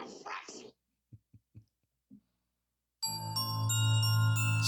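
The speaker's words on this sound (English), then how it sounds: "Some scary bells." Spooky bell sound effect fired from a RØDEcaster Pro pad: after a short sound at the start and near silence with a few faint ticks, a sustained, eerie tonal ringing swells in and holds loudly to the end.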